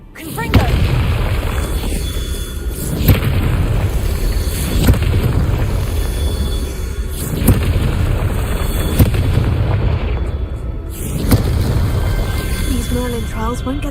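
Repeated Confringo spell explosions in Hogwarts Legacy boom at intervals of a few seconds, loud and close, over a constant roaring, rumbling background.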